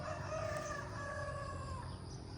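A rooster crows in long drawn-out calls, somewhat distant and faint, over a steady outdoor background of clucking fowl.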